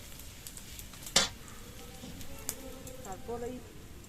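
Turmeric dropped into hot oil with panch phoron in a pan for a banana-flower curry, a soft steady sizzle with a sharp clatter and light stirring taps, under a voice talking.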